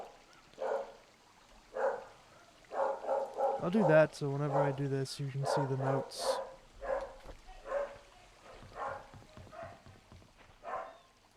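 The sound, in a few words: dog barking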